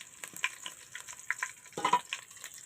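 Crackling sizzle of curry leaves, with mustard seeds and cumin, dropped into hot oil, with sharp popping bursts and a louder spatter near the end, no voices.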